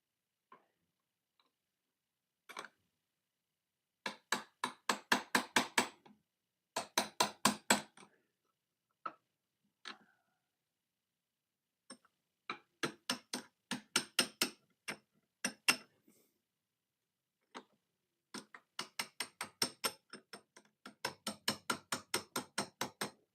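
A small hammer tapping gently on a piece of tech gear, sounding as close, sharp clicks in quick bursts of several taps with short pauses between them, and no voices.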